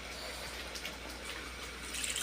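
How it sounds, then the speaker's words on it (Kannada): Tamarind water is poured into a Kerala-style mathi (sardine) fish curry over oil, onion, curry leaves, chilli and masala; a soft, close splashing gush of liquid, fairly quiet and continuous. "ಹುಣಸೆಹಣ್ಣು ನೀರನ್ನ ಹಾಕೋಣ."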